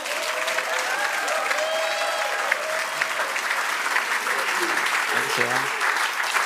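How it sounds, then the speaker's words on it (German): A cabaret awards audience greets a performer with loud, continuous applause, dense clapping throughout while the performer briefly thanks the crowd over it. "Begrüßen Sie mit einem donnernden Applaus, der weit über die Alpen schallt"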